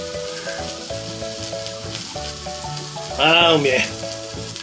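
Sliced beef such as thick-cut tongue, tripe and kalbi crackles and sizzles steadily on a very small tabletop grill stove, close and continuous, while a man briefly murmurs appreciatively over it.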